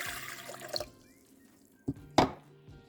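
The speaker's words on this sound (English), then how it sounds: "we will begin with 1¼ cups of warm water" Warm water is poured for Greek sourdough loaves in a short, splashy pour at the start, then a few sharp clunks and knocks follow in a quiet kitchen.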